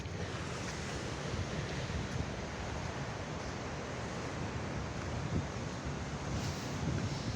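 Strong wind and surf on Surin Beach in Phuket on a morning: a constant, broad roar of waves and gusting wind buffeting the microphone, with no voices.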